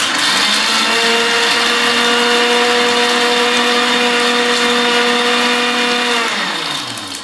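An electric blender crushes ice for a Mai Tai cocktail, a loud steady motor whine with a grinding, rattling churn that runs continuously for several seconds and then winds down at the end.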